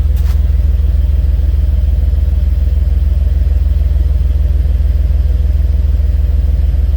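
A 1995 dually pickup truck engine with 200,000 miles, treated with Seafoam, idles close by, loud and steady, with an even low-pitched chug that never changes pace.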